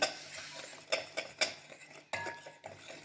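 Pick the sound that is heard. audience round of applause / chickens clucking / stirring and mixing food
stirring and mixing food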